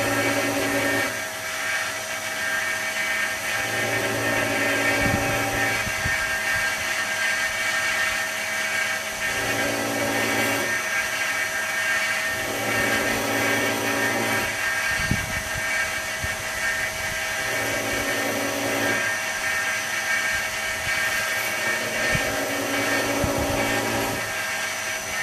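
A grinder runs steadily for a long stretch with light, low-pressure passes, a continuous whining drone that swells and eases in slow cycles as the work is pressed lightly and released.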